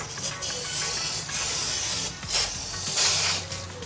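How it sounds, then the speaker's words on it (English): Short bursts of hissing copper spray from an aerosol can onto a Mercedes W203 rear brake disc, several quick squirts separated by brief pauses, close by over a low background hum. "copper spray"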